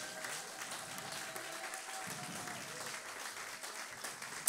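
A church congregation applauds Jesus during a morning worship service, with steady, sustained clapping from a crowd that stays at an even level throughout, ending on a single louder clap.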